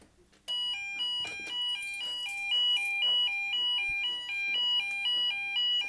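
A Chinese knockoff KEC fire alarm sounds during a test, giving a loud repeating electronic beep pattern of rapid alternating tones that continues steadily throughout.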